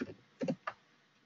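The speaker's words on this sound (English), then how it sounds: "I'm just replying in by typing" Light typing on a computer keyboard during an online webinar, a few soft, quiet clicks in two or three small bursts against near silence.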